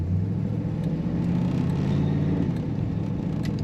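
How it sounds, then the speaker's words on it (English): A 1949 Ford Club Coupe two-door idles with a steady, close, low engine rumble that holds evenly throughout, with no revving. "Very nice starting, running, and idling car"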